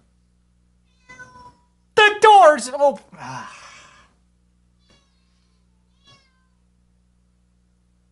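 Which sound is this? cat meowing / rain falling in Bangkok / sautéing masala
cat meowing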